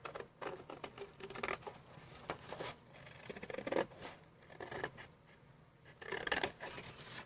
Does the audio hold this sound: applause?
no